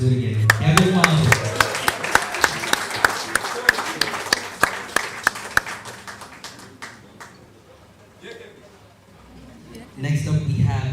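Crowd at a graduation ceremony clapping for a graduate, sharp, close individual claps dense at first, then thinning and fading out before a voice speaks at the end.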